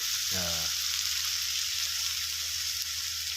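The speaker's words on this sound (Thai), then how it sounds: "หลังจากนั้นก็ใส่ผักลงไปผัดเลยนะครับ" Vegetables, including baby corn, hit a hot wok for a mala shrimp stir-fry, producing a loud, continuous sizzle with a brief metallic scrape near the start.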